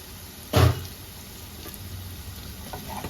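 Taro stolons in a covered pan give a brief loud clatter, then a faint steady sizzle of frying beneath for the rest of the moment.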